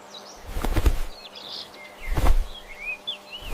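A dove's wings flap in two loud, close bursts of rapid fluttering beats, with soft high chirps and tweets scattered between and after them.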